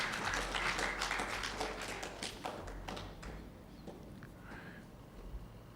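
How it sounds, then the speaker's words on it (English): An audience at a dance book launch event claps for an honoree, with a moderate burst of applause that gradually thins into sparse, scattered claps, heard from a slight distance. "can we have a round of applause for Jermaine and his work?"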